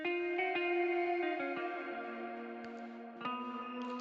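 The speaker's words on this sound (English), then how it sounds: "It's ample guitar LP, clean rhythm, both something, something. Sounds like this." Ample Guitar LP virtual electric guitar in a clean rhythm part, a few sustained, ringing chords with soft picked attacks and a light chorus-like shimmer, moderately quiet and without any talking.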